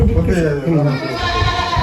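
A goat bleats nearby with a wavering, drawn-out cry, while someone talks over it on a farm where goats are kept.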